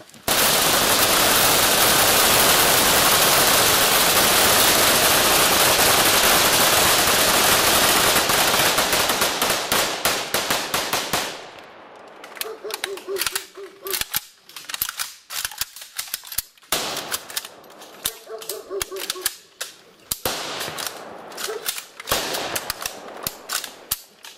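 Sharp rifle cracks ring out in repeated volleys of a funeral gun salute after a long stretch of loud roaring noise, with faint voices between the shots.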